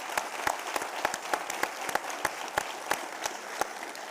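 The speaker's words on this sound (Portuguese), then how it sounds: "Palmas para você, Júlio." A studio audience applauds at a book launch, with steady, moderately distant clapping from a crowd and a few sharper individual claps cutting through at a regular pace.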